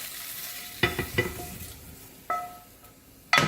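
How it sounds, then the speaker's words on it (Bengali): Paneer pieces fry in a little oil in a frying pan, a soft low sizzle punctuated by several sharp clinks and scrapes of a utensil against the pan. "ফ্রাইং প্যানে অল্প একটু তেল দেব, যাতে আমি এই পনিরগুলোকে একটু লাইট ব্রাউন করে ভেজে নিতে পারি"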